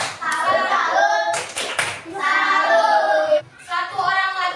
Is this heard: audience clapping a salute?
yes